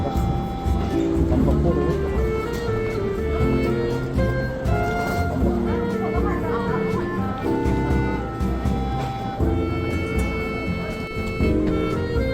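An express train runs on rails in Japan, a steady rumbling ride with rhythmic rail clatter and tonal hums from the carriages, continuing throughout at close range.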